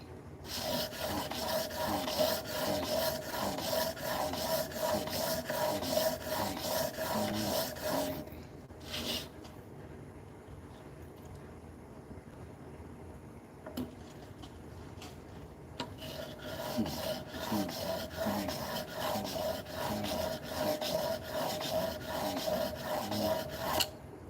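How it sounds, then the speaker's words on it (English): A steel chisel, reworked from an old masonry chisel for woodworking, is sharpened on a stone with steady back-and-forth swipes. The rasping runs continuously, fades quieter for a stretch in the middle, then returns at full strength. "There's 100 swipes, and we have established somewhat of a little micro bevel"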